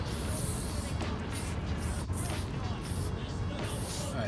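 A spray paint can fitted with a Montana Level 1 cap puts down lettering in a series of about seven short, sharp hissing bursts with brief pauses between them, heard close against a quiet background.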